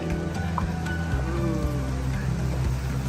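Rain falls on a Paris street, a steady patter and splash on hard surfaces beneath a low hum of background city noise, constant throughout the short stretch.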